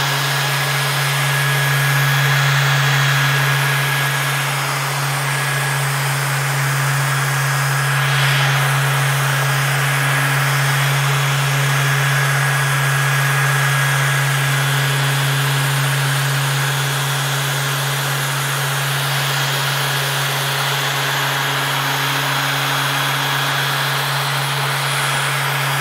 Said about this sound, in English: gonna start burnishing it.